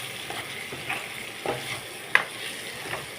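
Egg and tomato curry being stirred in a frying pan after water is added, with soft scraping and stirring strokes over a gentle sizzle, one sharper clink near the middle.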